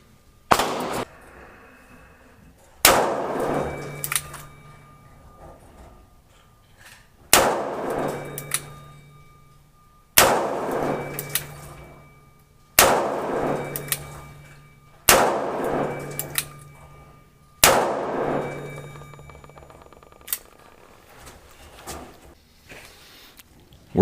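A Ruger Redhawk revolver fires Freedom Munitions .45 Long Colt rounds: seven loud, sharp shots at uneven intervals of a few seconds, each with a bright metallic ring and a short echoing tail.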